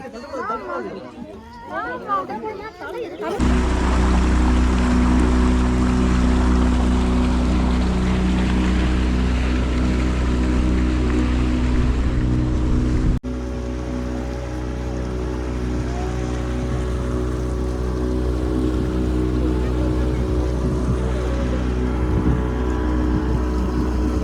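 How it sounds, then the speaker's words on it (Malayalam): A speedboat on a lake in Munnar, its engine starting up as a loud, close, steady drone after a few seconds and holding on, with people chattering nearby. "പെഡൽ ബോട്ട് സ്പീഡ് ബോട്ട് ഒരെണ്ണം അങ്ങോട്ട് പോയിട്ടുണ്ട്"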